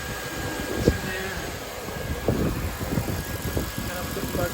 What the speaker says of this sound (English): Engine is running fine.